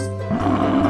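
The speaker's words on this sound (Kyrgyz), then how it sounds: "топоз" A yak grunts in one short, low, rumbling call that swells after a brief quieter start, heard alone and close.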